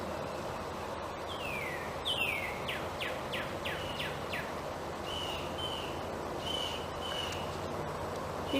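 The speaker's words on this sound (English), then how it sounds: "Do you hear the birds singing?" Birds singing outdoors on a bright day, a series of quick descending chirps repeated in a run and then a few higher whistles, fairly near, set over a steady bed of insect and background noise with no talking.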